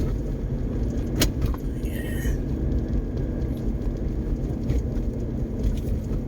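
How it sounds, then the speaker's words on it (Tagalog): Heavy traffic on a rerouted road in Barangay Canili, Maria Aurora, with vehicles bound for Baler and Kasiguran rumbling past in a steady close drone, a sharp click and some jingling early on. "napakarami pa rin pong sasakyan na papuntang Maria Aurora, Baler, Dinalungan or Kasiguran"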